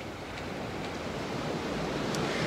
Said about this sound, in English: You can hear the waves gently crashing on the beach there.